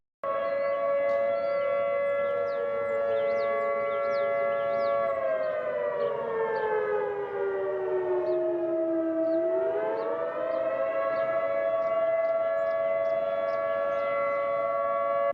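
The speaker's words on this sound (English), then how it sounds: "And then there's the attack tone, which is, it goes up and down, back and forth." A civil defense siren sounds its attack tone, a loud sustained wail that holds steady, dips down in pitch and then climbs back up. It plays alone.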